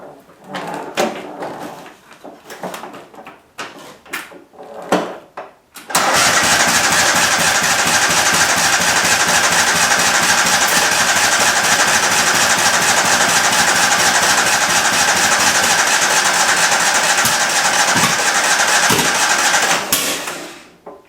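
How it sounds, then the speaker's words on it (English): A Kohler small engine freshly rebuilt at the carburetor fires up after several seconds of cranking and knocking, then settles into a loud, steady, close running drone that lasts about fourteen seconds before cutting off. "I'm going to start this up. It's going to take a minute because it's got to pull gas all the way up into the bowl of that carburetor."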